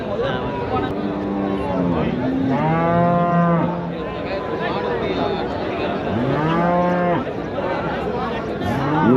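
Cattle at Anthiyur cattle market in Tamil Nadu, crowded in for Pongal, let out several long, loud, near moos one after another, over a steady background of people chattering in the busy market.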